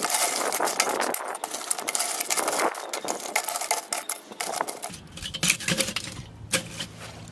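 Charcoal lumps clatter and clink as they are pushed into a crescent along the side of a Weber Mastertouch kettle barbecue, a dense rattling that thins to sparser knocks near the end.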